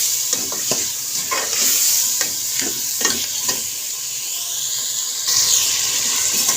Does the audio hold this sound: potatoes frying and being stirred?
yes